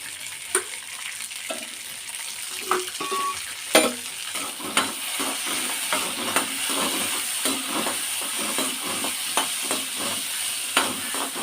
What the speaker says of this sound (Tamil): முதல்ல நெய் கொஞ்சம் ஊற்றி இந்த சுண்டைக்காய்களை நெய்யில் வறுக்க வேண்டும்.